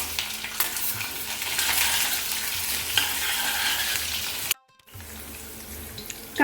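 Capsicum, ginger and browned garlic fry in a pan over medium-to-high flame, a close, loud, steady sizzle that cuts out abruptly near the end, then resumes more quietly.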